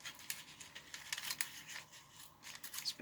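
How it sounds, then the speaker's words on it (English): Folded paper being ripped apart by hand, several short, crisp tearing bursts close up with quiet gaps between them. "fold it a bunch of times and rip it"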